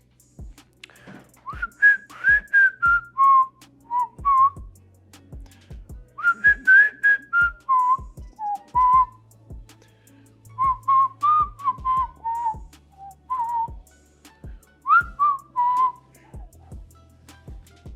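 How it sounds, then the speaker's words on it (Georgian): A person whistles a song melody in short phrased bursts with brief pauses between them, clear and close, alone without talking. "აბა გამოიცანე და რომელ სიმღერას უსტვენ?"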